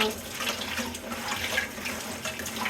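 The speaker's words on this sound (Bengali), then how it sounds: "এখন আমি ঝিঙাগুলো ধুয়ে নেব কারণ এইগুলো কিন্তু ধুয়ে কাটাই ভালো" Tap water running steadily in a kitchen sink while ridge gourds are washed under it, a continuous close splashing hiss with no voices.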